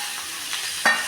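Lentil dumplings (bori) going into a hot pan for a poppy-seed curry, a brief hiss of frying with a sharper sizzling burst near the end and no speech.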